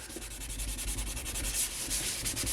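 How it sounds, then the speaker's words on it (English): Pink Stuff foam cleaner is wiped off a kitchen sink, a continuous close, gritty rubbing and scrubbing that runs steadily throughout, with no voices. "let's try to wipe this off, see if it makes any difference whatsoever"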